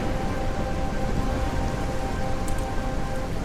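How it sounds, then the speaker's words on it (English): Steady, dense rain hisses loudly through a video game storm scene, a constant downpour wash with no talking over it. "You can hear the thunderstorm, like, raging out there."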